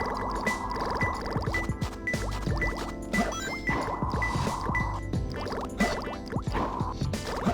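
Water level shifting in the Sonic Adventure 2 video game, a continuous gurgling, liquid-filling wash layered over busy game music with repeated sweeping tones, steady and fairly loud throughout.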